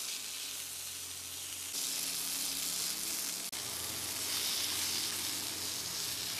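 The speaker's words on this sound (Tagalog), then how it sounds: "So binirito ko muna ito for 6 to 8 minutes." Beef and chicken hotdogs fry in a pan with a dense, continuous sizzle that swells louder partway through, with a single sharp click near the middle, close and steady with no talking.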